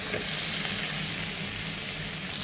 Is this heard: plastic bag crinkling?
no